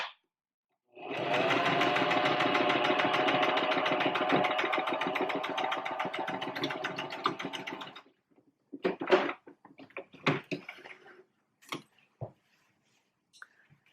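A sewing machine stitches an arm warmer, running in a steady, close, rapid mechanical whir for about seven seconds, then stopping and giving way to a few short clicks and bumps.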